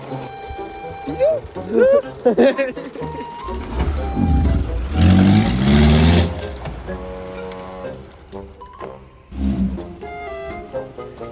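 A Renault Clio engine with a broken engine mount revs up hard, a loud, strained roar peaking midway, with clattering and voices talking around it.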